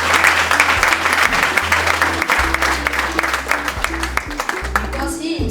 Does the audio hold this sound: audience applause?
yes